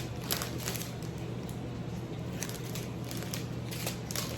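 Scissors snip through pairs of small plastic bags from a diamond art kit, a run of close, soft repeated cuts with faint crinkling over a steady low hum.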